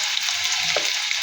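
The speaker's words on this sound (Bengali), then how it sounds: "পেঁয়াজ রসুনটা ভাজা হয়ে গিয়েছে" Chopped garlic and onion fry in hot oil after dried chillies, a close, steady crackling sizzle with a brief soft stir partway through.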